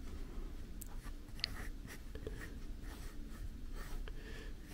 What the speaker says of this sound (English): So let's just use pencil.